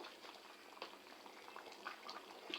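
Village-style chicken curry bubbles steadily in a pot on a high flame, a soft, continuous simmering crackle with small pops, fairly quiet and alone.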